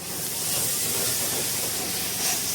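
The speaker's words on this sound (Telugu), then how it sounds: "మిర్చి కూడా బాగా ఫ్రై అవ్వాలి ఆయిల్లో." Chilli bajji battered peppers sizzle in hot oil, a dense, steady, close frying hiss with no breaks.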